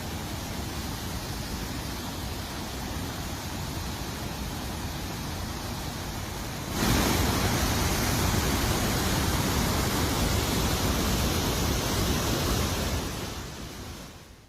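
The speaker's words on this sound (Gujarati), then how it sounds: "આ જ વિસ્તારમાં આવેલ બાલાપાવા ધોધ પણ ધમધમી રહ્યો છે" Balapava falls roars after heavy rain, a steady broadband rush of water that grows louder partway through and then fades near the end, with no voices.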